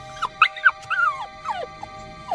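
A dog whimpering and crying indoors after its owner steps outside, a series of close, high, wavering whines and yelps in uneven bursts.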